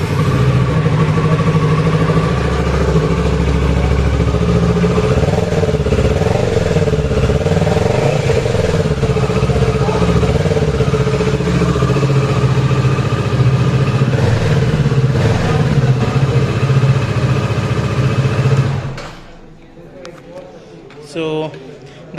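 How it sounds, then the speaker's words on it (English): A Kawasaki Z650 BS-6 motorcycle engine idles and revs, a loud, steady, throaty exhaust note that runs continuously for close to twenty seconds before cutting off abruptly into quiet. "So that was a very throaty exhaust note."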